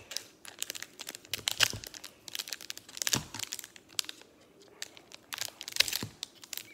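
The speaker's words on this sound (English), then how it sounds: "Maybe I have to cut it." Plastic packaging on a Pokémon card box crinkles and tears as it is cut open, a close run of irregular crackling bursts with sharper rips in between.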